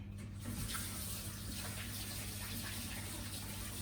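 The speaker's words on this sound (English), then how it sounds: "So let me just wash my hands." Water runs steadily from a kitchen tap while hands are washed during pie making, a continuous close hiss and splash that stays even throughout with no talk.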